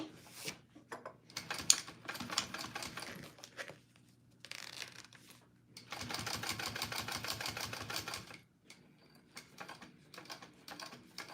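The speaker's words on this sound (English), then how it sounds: "I'm gonna sew that in there." A sewing machine stitches a clutch bag in short, quiet runs: a few brief bursts early on, then a steady, rapid run of several seconds, then lighter handling noises.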